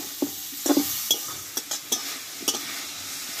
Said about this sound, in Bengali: খুব অল্প সময় একটু নাড়াচাড়া করে নেব।